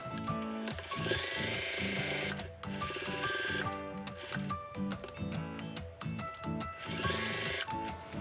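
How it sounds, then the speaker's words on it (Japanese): Sewing machine stitching the opened triple-folded waistband of steteko underwear, a steady rapid mechanical whir with rhythmic needle clatter running nearly continuously, briefly pausing and restarting, loud and close with no talking. "このウエストのね三つ折りの部分は全部開いてあげてステッチをかけます。"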